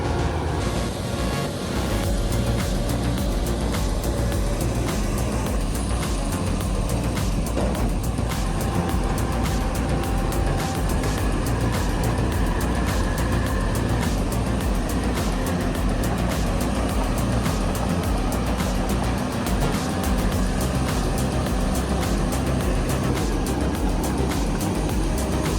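A Caterpillar D6R bulldozer working its way out of slick, deep mud, a continuous heavy diesel rumble with grinding, clattering track noise, loud and close, steady throughout with no voices.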